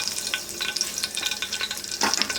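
Whole spices such as cinnamon, cardamom and cloves sizzle and crackle in hot oil in a pan for chicken biryani, a steady frying hiss with scattered pops and a brief stir near the end, no talk.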